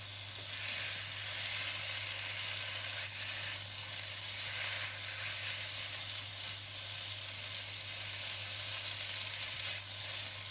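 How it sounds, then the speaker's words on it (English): Noodles and egg for Char Kway Teow fry in a hot pan with a steady, close sizzle and hiss that carries on evenly throughout, with no talking. "Now we add our noodles with our eggs."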